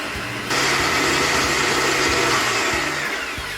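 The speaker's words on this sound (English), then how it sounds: "your bowl back onto the stand mixer and continue to mix again until it's nice and smooth" A stand mixer whirs steadily as it beats vegan sugar cookie dough, a loud continuous motor drone that surges in intensity after a brief start and holds close and even throughout.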